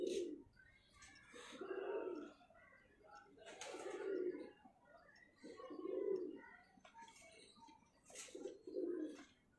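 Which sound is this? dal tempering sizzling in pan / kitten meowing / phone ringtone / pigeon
pigeon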